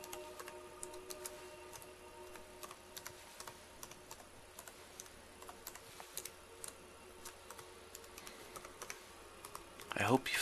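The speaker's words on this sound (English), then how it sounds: "I hope you find the sound of my keys meditational." Keys clack on a computer keyboard in an irregular, light, close-up rhythm of quiet taps, with a brief louder flurry at the very end.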